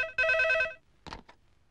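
An old-style telephone bell rings once in a short burst, followed by a faint clatter, likely the receiver being picked up, in an otherwise quiet indoor scene.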